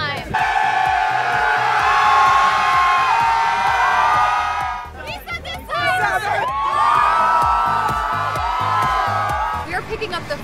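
A large group from San Antonio yells and cheers in a sustained roar during a yell-off, with whoops and high shouting rising and falling across two loud waves that overlap each other.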